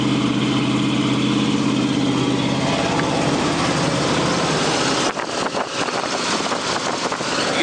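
An engine idles steadily and evenly at close range with a low, smooth hum, then a brief clatter or handling noise breaks in partway through while the idle carries on.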